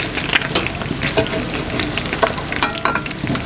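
Chinese water-fried steamed buns sizzle and crackle hard in a hot pan, close and loud, a dense continuous fry with scattered sharp pops and spatters throughout.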